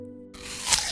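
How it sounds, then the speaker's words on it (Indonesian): Crisp crunching bites into an apple, a short crackly burst that grows louder and comes close, with no voice. "Ucap Bimo sambil mengunyah apelnya"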